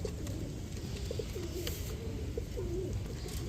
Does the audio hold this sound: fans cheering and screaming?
no